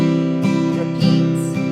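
Acoustic guitar strumming the chords of a song, several full downstrokes ringing out in steady succession, close and clear with no talking.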